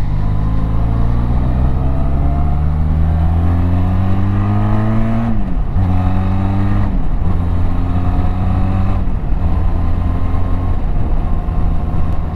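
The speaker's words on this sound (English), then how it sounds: "So for me, on 100 kilometers now, this is way better from the wind noise." Steady wind rush while riding a Benelli TRK 502 motorcycle fitted with a windscreen spoiler at about 100 km/h, loud and continuous beneath the engine's rising and falling drone through several gear changes.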